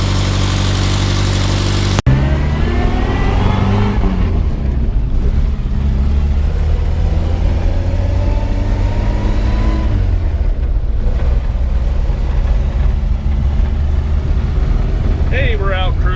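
The engine of a 1961 Morris Minor Series III quarter-ton pickup runs loud and close with a steady idle, with a couple of brief revs rising and falling and someone talking over it.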